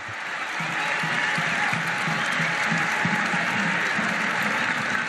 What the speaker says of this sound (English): Fans applauding the effort